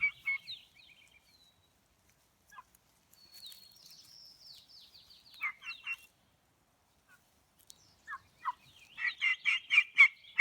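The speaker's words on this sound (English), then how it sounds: "Have you seen wild turkeys in your backyard?" Wild turkeys gobble in a backyard, with scattered rattling calls early on and a louder run of rapid gobbles bunched together toward the end, separated by quiet gaps.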